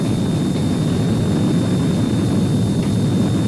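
Loud, steady roar of a Heinkel He 162 jet engine as power is raised, a dense broadband rush with a thin high whine running through it, close and continuous.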